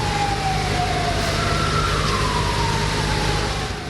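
A fire brigade siren wails as the fire engine arrives at a burning hotel, a loud close sweeping tone rising and falling over heavy engine and street rumble.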